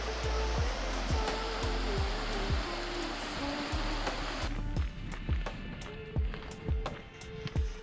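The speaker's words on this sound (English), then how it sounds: "River Kent, swollen a bit after yesterday's rain." The River Kent in the Lake District's South Lakes runs swollen after a day of rain, giving a steady, close rush of flowing water that stays loud throughout and is joined by faint knocking in the second half.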